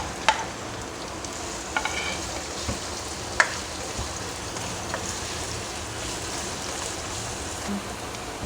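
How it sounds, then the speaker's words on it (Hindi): Four medium onions frying in oil left over from browning tinda, a soft steady sizzle with faint stirring clicks throughout, no voices. "इसी ऑयल में जो मैंने 4 मीडियम साइज़ की प्याज ली थी,"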